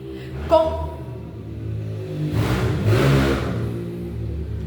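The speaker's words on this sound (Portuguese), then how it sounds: "aqui há muito barulho às vezes de moto ou de carro que passa" A motorbike or car passing along a street outside a room where a Bible lesson is being given, a medium engine swelling from a low rumble to a louder whoosh as it goes by, with a brief voice sound early on.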